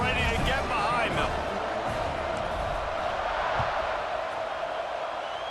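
Steady roar of a college football stadium crowd in EA Sports College Football 26, a dense, continuous wash of cheering noise that stays loud throughout, with a commentator's voice over it.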